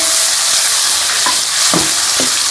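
Loud, constant sizzling as browned onions with spices, tomatoes and green chilies fry in a pan, with a few soft clinks and scrapes of stirring close by.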